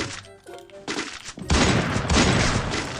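Bursts of gunfire in the Free Fire video game, a dense, loud stretch of rapid shots that builds into sustained firing, with no one talking over it.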